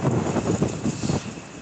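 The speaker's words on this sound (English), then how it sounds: "it is so windy down here" Strong gusts buffet an outdoor microphone at a truck convoy protest in Ottawa, producing loud, low, rumbling bursts of wind noise that rise and fall through the whole stretch, with no clear talk.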